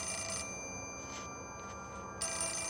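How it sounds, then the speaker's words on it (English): A telephone rings in the Fatal Frame: Mask of the Lunar Eclipse horror game, bursts of bright electronic bell tones cutting in and out over a steady hum, loud and close with no speech. "I want to answer the phone. It's annoying me."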